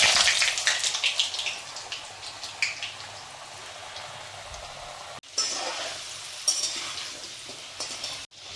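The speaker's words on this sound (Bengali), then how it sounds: "তেল গরম হলে এক এক করে কেটে রাখা সবজিগুলো আলাদা আলাদা করে লাল করে ভেজে নেব।" Cut vegetables fry in hot oil, giving a continuous close crackling sizzle with bursts of spattering and a brief break partway through as the pan is stirred.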